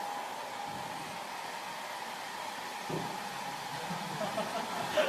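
A household hair dryer blows hot air indoors in a steady, continuous whir, with faint voice and handling noise near the end.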